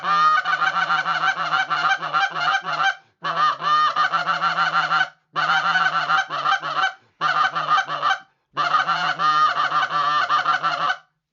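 A Canada goose call is blown in five fast, aggressive bursts of rapid honking murmurs, loud and close, separated by short pauses.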